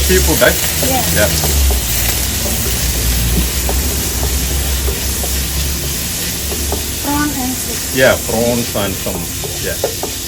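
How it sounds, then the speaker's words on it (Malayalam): Fried rice sizzling loudly in oil in a hot frying pan at a cafe in Ubud, Bali, with scraping stirring strokes and intermittent voices in the background. "ഇതൊക്കെ ഇട്ട് ഇത്തിരി എണ്ണ ഒഴിച്ച് നല്ല ചൂടാക്കി ഫ്രൈങ് പാനിൽ സ്റ്റിർ ചെയ്തോണ്ടിരിക്കുക"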